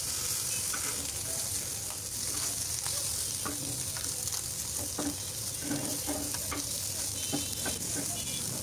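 Small mixed fish fry in a pan with a steady close sizzle, broken by scattered clicks and scrapes as they are stirred and turned, with no one talking.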